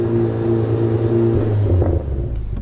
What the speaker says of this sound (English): you can actually hear the intake as well